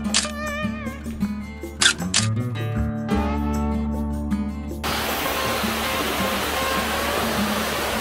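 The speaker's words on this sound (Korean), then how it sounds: "I hear the sound of water from somewhere. Wow, there is a waterfall." Bulam waterfall on Bulam Mountain in Korea, a steady broadband rush of falling water that rises to fill the second half, preceded by louder tonal sounds and background noise.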